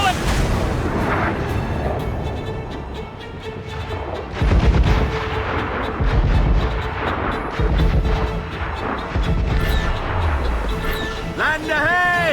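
Naval cannon fire during a ship battle in Assassin's Creed Rogue, with repeated heavy booms rolling over constant sea and combat noise while voices shout throughout.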